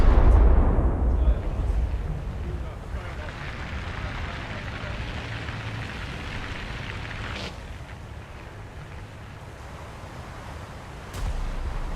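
A German battleship's main guns fire in a naval combat game, a deep rumbling boom at the start that fades into a long low roar, with a faint voice underneath.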